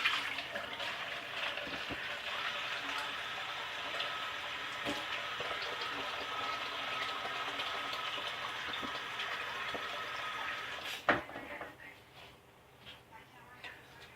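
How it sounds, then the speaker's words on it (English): Water pours steadily into a Dutch oven of bean soup with black-eyed peas and lentils, a continuous close splashing gush that stops abruptly near the end and leaves faint clinks. "We're going to add a generous amount of water there"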